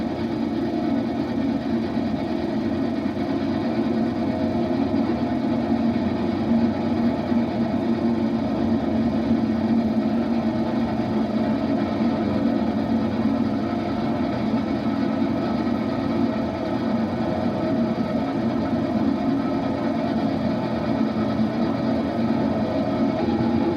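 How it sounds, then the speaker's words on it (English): A gang saw in a 1950s New Zealand sawmill cutting a cant from a log gives a steady droning mechanical hum with constant vibration, loud and unbroken for the whole stretch, no voices. "The first gang saw cuts a cant from the log."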